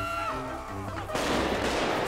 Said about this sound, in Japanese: 大銃撃戦が発生してますね。